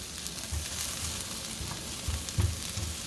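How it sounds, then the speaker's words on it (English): Mushrooms sizzle as they go into a hot frying pan, giving a steady close crackle with a few soft thumps and stirring noises. "now I'm going to add in the mushrooms"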